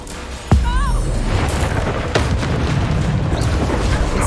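A Confringo fire-blast spell in the Hogwarts Legacy video game, a loud booming burst followed by a sustained rumbling roar with crackling debris and a few sharper pops.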